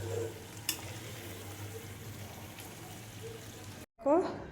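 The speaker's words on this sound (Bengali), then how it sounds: "আমি এখানে দিয়ে দিলাম ছোটো চামচে 4 চামচ মতো বাটার, আর দিয়ে দিলাম একটু মিট মশলা, দিয়ে আবারও কিছুক্ষণ এটাকে ভালো করে কষিয়ে নেব" Chicken sizzles in a pan with butter and meat masala as a steady soft frying hiss with a single sharp clink, cutting off briefly near the end before a short burst of other noise.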